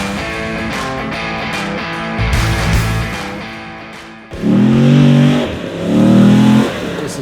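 Texas Speed 408 stroker LS V8 swapped into a BMW X5 revs hard in several loud bursts, the engine note rising and falling with throttle blips, close up and with no talk.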